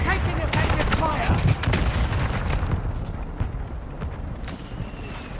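Sustained video-game gunfire in Call of Duty DMZ fills the first few seconds as a dense, loud barrage of overlapping shots and blasts, then thins into scattered, softer reports against a steady rumble.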